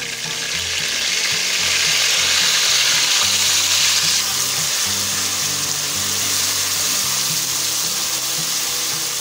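Chopped onions fry in hot oil with a steady, loud, continuous sizzle that holds evenly throughout, no voices over it.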